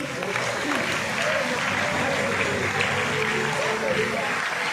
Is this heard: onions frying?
no